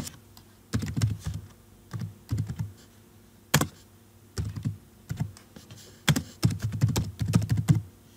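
Someone types on a computer keyboard while writing SQL code, producing irregular bursts of close key clicks and clacks with short pauses between, and a few sharper isolated keystrokes, with no talking over them.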